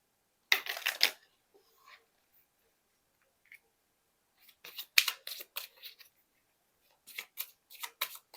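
Tarot cards are shuffled and drawn at close range in quick papery bursts of riffling and snapping, separated by near-silent pauses.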